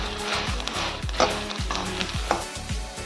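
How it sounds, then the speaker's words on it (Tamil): Dried red chillies dry-roasting in a pan over a low flame for idli podi, with soft sizzling and a regular rhythm of spoon scrapes and knocks against the pan. "அதனால் சிம்மில் தான் வச்சுட்டு வறுக்கிறோம்."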